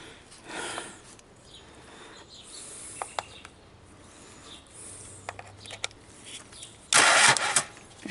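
A 2005 Ford Escape engine cranks in short bursts with clicks and whirs, then a loud burst near the end, heard close with background ambience and no talk.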